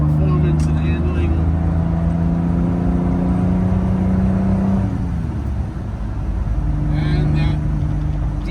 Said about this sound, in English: DB 6-cylinder sound, which is awesome